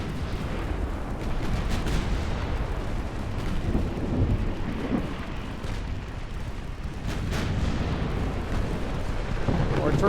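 Torpedo hits explode against battleships during an 1890s-era naval battle in Ultimate Admiral: Dreadnoughts, producing a continuous, heavy rumbling roll of blasts that rises and falls without pause.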